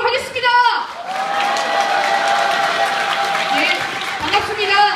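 At a Korean International Women's Day rally for women workers, a crowd breaks into sustained applause and cheering right after an amplified voice ends, a steady wash of clapping with scattered shouts.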